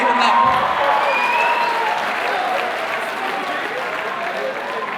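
Sustained audience applause fills a comedy show hall, a dense, loud wash of clapping that starts strongly and tapers slightly while continuing to the end, with a brief crowd shout near the start.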